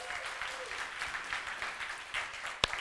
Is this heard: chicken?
no